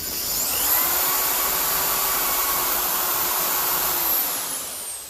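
A Ferguson 20 or 35 tractor dynamo, its field coils unpowered, is spun by hand, giving a close whirring whine that rises quickly, holds for several seconds, then winds down.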